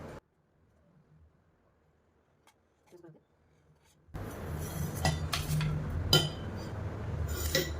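A puttu steamer is tapped with a stick to release the steamed puttu, giving a few sharp, light knocks and clinks over a steady background hiss after a mostly quiet start.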